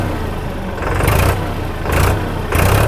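Tractor engine in low gear revved lightly three times, each swell rising from a steady low idle and easing back, close by with no talk.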